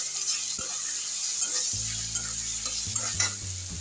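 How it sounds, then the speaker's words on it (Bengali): Mutton liver sizzles in a hot pan with chili powder, cumin and Kashmiri chili while a spoon scrapes and stirs through it, giving steady frying hiss broken by short clanks and scraping strokes. "এবার ভালো করে নাড়াচাড়া করবো।"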